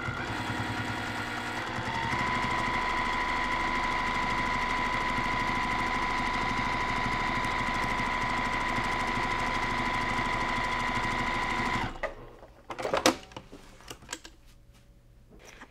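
Sewing machine stitching back over previous stitches along the top and bottom of a cross stitch zippered pillow, a steady continuous motor whir for about twelve seconds, then stopping into a few clicks and handling noises.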